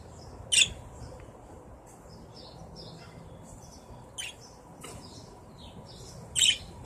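Outdoor birds call over quiet background hiss, with a few loud sharp squawks and chirps spaced irregularly plus fainter calls in between, with no talking.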